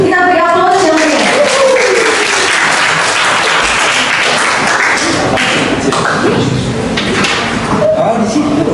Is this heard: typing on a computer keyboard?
no